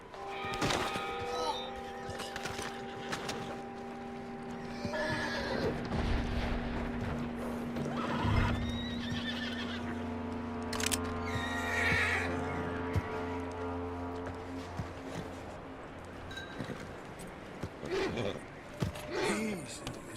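A horse in Red Dead Redemption 2 whinnies loudly amid hoof clip-clops and snorts, with game dialogue voices speaking over parts of the scene.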